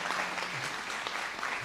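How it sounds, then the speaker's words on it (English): A warm round of audience applause at an investment closeout event in Kenya, brief and steady crowd clapping at moderate distance, without any talk over it. "I think we need to give them another warm round of applause."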